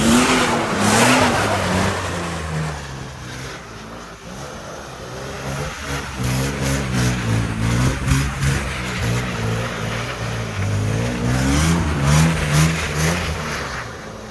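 A car engine revs up to around 3000 rpm as a beginner tries drifting, loud and close with repeated rising and falling throttle blips and a rough, wavering engine note throughout.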